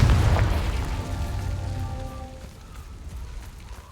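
Confringo explosive spell in the video game Hogwarts Legacy: a heavy, booming blast opens loudly, then rumbles and crackles as it slowly dies away over about four seconds.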